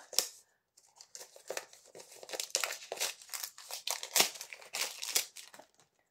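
Close, crisp crinkling and tearing of plastic wrapping as a small boxed package of vintage ink is opened, in irregular bursts of rustles over several seconds with no talking.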